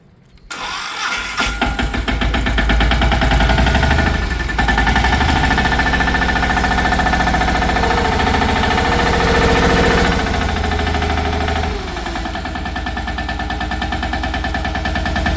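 A tractor engine cranks and catches, then runs steadily and loudly at close range with a throbbing diesel rumble, shifting to a slightly lower idle near the end.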